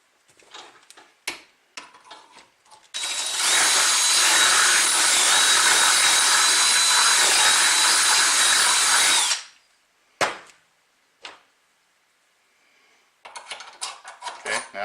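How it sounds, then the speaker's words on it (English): A power drill whines loudly and steadily for about six seconds while reworking a pin hole, with short clicks and handling knocks before and after. "I'm going to put the drill back in"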